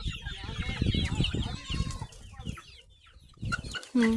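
Several chickens cluck and squawk close by, busy overlapping calls with a louder squawk at the end.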